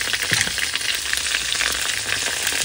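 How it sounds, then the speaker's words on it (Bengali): Green chillies tossed onto fried potatoes crackle in hot oil, a loud, steady close sizzle with small pops and stirring scrapes, no voices. "এবার দেবো কাঁচা লঙ্কা"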